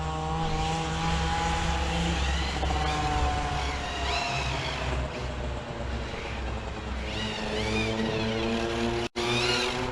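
A Hobao 10SC RC car drifts on wet, damp ground with a continuous high-pitched electric motor whine that rises and falls in steady sweeps, loud and close throughout, with no talk over it.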